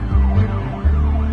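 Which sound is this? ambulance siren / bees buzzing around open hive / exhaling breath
ambulance siren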